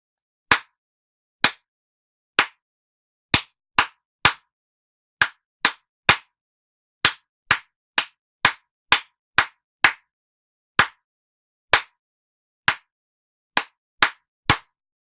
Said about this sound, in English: I'm going to clap one of the patterns up on the screen.